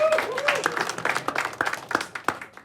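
A studio audience claps in welcome for a returning comedy show host, a dense, fairly loud patter of many hands with some voices mixed in, rising and falling over a few seconds.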